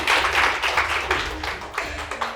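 Audience clapping at a makeup training academy session, a steady run of hand claps with a few louder bursts, fairly close and continuous with no voices over it.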